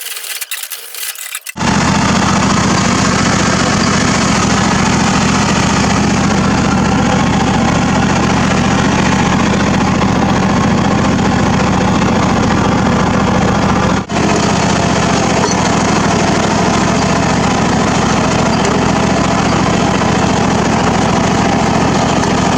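A Murray riding mower runs steadily close by, fitted with a small single-cylinder engine, its loud continuous drone starting abruptly after a brief moment of quiet and holding for over twenty seconds with no talking.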